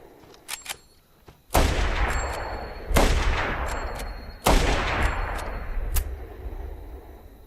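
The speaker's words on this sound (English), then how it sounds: "He empties every bullet into the man who destroyed his family." Three loud, close gunshots from a film scene, evenly spaced about a second and a half apart, each ringing out with a long decaying tail, preceded by faint clicks.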